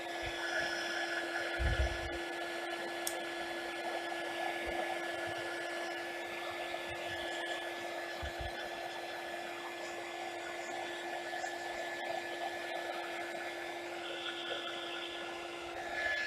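A hair dryer blowing on a handmade seaside card, a steady close whine and airy rush held throughout with a few faint thumps underneath.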